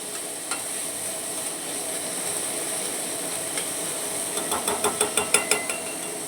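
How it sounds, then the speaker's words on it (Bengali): Tomato cooking down in a pan with potato and peas, a steady frying hiss throughout and a quick run of rhythmic scraping stirs near the end, close and fairly loud, without speech. "দেখুন টমাটো দিয়ে দিচ্ছি, এখানে কষে নেব আমি টমাটোটাকে"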